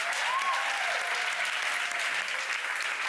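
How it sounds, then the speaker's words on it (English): Studio audience applause on a daytime talk show, a steady, full roar of clapping that holds evenly throughout, with faint voices beneath. "Give these girls a big round of applause."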